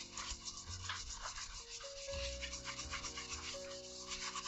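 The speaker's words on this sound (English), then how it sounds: "But when I use the soap pad with the Comet bleach, it works faster." A soap pad with Comet bleach scrubs a cast iron kitchen sink in a continuous, close rasping rub with rhythmic strokes, and there is a faint tonal hum underneath.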